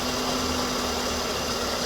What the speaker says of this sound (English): Okay, now I can hear the lifter now.